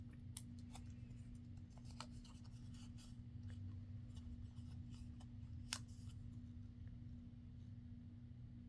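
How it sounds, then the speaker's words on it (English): Scissors cut a shallow groove into paper for a papercraft project, making faint, irregular snips and scrapes over a steady low electrical hum, with no talking. "You just want to cut like a groove in your paper."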